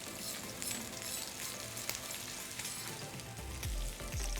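Salmon skin sizzles and crackles steadily in hot oil, crisping up, a dense close-up frying hiss with a couple of low knocks near the end.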